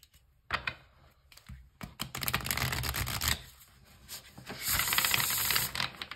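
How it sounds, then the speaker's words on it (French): A deck of tarot cards shuffled by hand, giving close, crisp bursts of riffling and flicking card edges, with short pauses between the shuffles and no voice over them. "je vais le mélanger comme ça"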